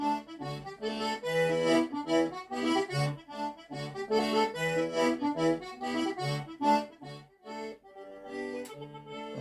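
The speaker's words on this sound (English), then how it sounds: "that is the sound of melodian music" Melodeon music played from a minidisc deck through a Behringer MX1604A mixer, a lively squeezebox tune with rhythmic chords and melody, moderately quiet and steady, with no talking.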